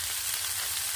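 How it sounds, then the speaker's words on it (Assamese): Small fish frying in hot oil with turmeric give off a steady, dense sizzle that stays close and even throughout, with no talk over it. "এই মাছকেইটা দি মেলি এনেকৈ ভাজি ল'ম দেই"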